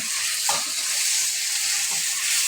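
Taro stem tips with a little turmeric sizzling in a pan, a close, even frying hiss throughout with a couple of soft spatula strokes.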